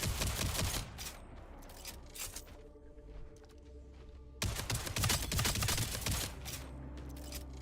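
Rapid bursts of pistol gunfire from The Expanse video game, loud and close, with a quieter lull midway before another dense run of shots.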